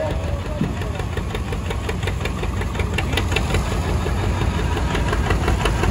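A gas John Deere 60 tractor chugs along in a power parade, its two-cylinder engine pulsing with a loud, even, rapid knock close by, and a voice talks over it.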